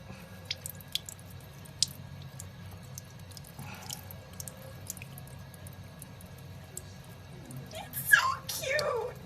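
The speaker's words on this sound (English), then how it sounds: "Here's a happy snail drinking water from the sink." Water drips from a sink tap while a snail drinks, with faint scattered drips across a quiet background and a louder burst of splashing near the end.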